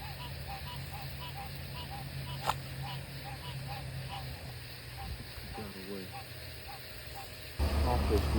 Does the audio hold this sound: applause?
no